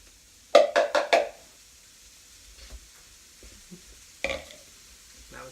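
Cauliflower rice is dumped into a hot pan, giving a quick burst of four close scraping, sizzling strokes, then a quieter stretch of faint crackle and another stir.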